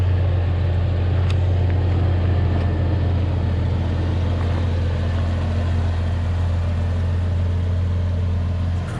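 A wagon's engine, just started after a flat battery, runs at a steady idle with a loud, constant low rumbling hum and a few faint knocks over it.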